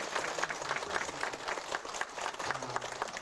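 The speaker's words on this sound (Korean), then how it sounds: "우리 한번 박수 좀 쳐주세요." Applause from an audience of elderly church members at a summer Bible school, a moderately faint, continuous patter of many hands clapping throughout.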